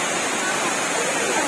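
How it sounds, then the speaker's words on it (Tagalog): Tining Falls, a waterfall in a nature park beside a river, roaring as a loud, dense, steady rush of falling water close by, filling the whole moment with no break. "lakas ng talon, oh. Ito yung pining falls."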